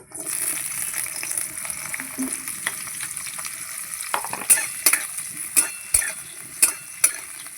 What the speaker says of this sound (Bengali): তেল গরম হয়ে গেছে আমি আগে বেগুনগুলো ভেজে নেব